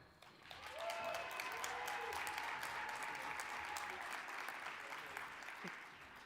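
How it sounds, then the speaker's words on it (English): An audience at a 2021 community college commencement claps and cheers in a sustained wave of applause, with a few whistles and shouts rising over the crowd. "Let's cheer each other on."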